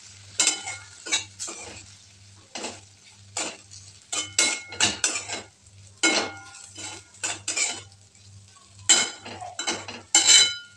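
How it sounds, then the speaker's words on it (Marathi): A spoon stirs sliced okra (bhindi) with crushed peanuts in a pan, producing irregular scraping and clinking bursts against the metal over a low sizzle, close and fairly quiet with brief pauses between strokes. "मग मी त्यामध्ये टाकले शेंगदाण्याचं कूट आणि व्यवस्थित हलवून घेते।"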